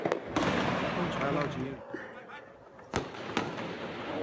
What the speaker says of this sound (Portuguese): Nos vídeos gravados por moradores, é possível ouvir tiros de fuzil.